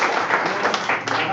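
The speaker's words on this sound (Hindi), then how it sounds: "श्री लवकुश पटेल सर के लिए जोरदार तालियां बजा रहे हैं" Audience applause fills a seminar hall in a steady wash of clapping, fairly even throughout with a voice sounding over it.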